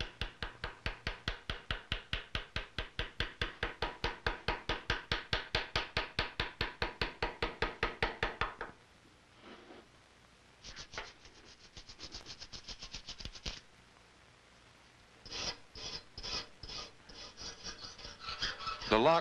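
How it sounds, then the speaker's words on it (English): Metal being hand-engraved with a V-shaped engraver by a colonial gunsmith, a fast, steady run of sharp scraping strokes for several seconds, then sparser bursts of cutting after a pause. "The majority of the engraving is done with the V-shaped engraver, which cuts a narrow line."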